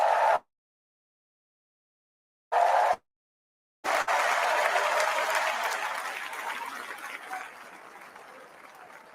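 Two short bursts of convention crowd applause come first, then longer, sustained clapping and cheering that gradually fades.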